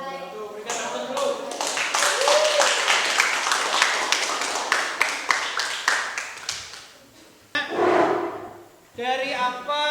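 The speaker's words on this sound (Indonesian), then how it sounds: "berikan aplaus dulu" Classroom applause from students after a group presentation, a dense burst of clapping that swells then breaks off, with voices talking over it and at the end.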